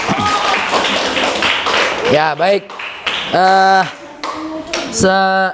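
Students in a classroom clap briefly for a group after its discussion, a short burst of hands at the start before a teacher's voice takes over with spoken remarks.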